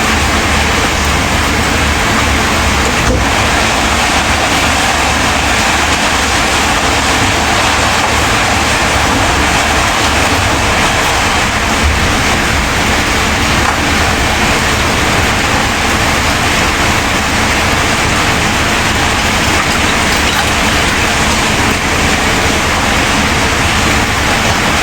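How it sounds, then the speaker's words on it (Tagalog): Heavy rain pours down in a steady, dense broadband hiss that stays loud and unbroken throughout, with no voices over it. "Lakas ng ulan."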